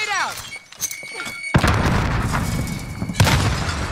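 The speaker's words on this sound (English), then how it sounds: "Grenade out." A grenade blast in Call of Duty: Warzone near a train station, a loud sudden boom with rumbling debris that follows game radio chatter and tones, then a second thump shortly after.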